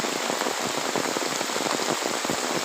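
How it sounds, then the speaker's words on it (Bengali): Heavy rain pours onto a village vegetable garden planted with eggplants, a dense, steady patter of countless drops close by that holds an even loudness throughout, with no voices. "এখানে প্রচুর বৃষ্টি পড়ছে"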